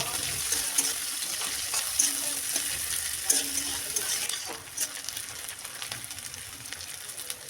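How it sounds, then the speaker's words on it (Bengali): Cumin, bay leaf and chopped onion fry in hot oil for a fish curry, giving a steady soft sizzle with occasional stirring scrapes and a few clinks throughout, no talk. "এবারে ওই তেলেই ফোড়নে জিরে তেজপাতা কুচনো পেঁয়াজ দিয়ে ভালো করে ভেজে নেব।"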